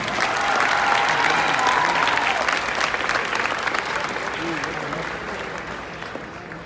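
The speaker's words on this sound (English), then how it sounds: "Let's give them another round of applause" Applause from an audience at a middle school graduation ceremony, a dense steady roar of many hands clapping with some crowd noise, tapering gently toward the end.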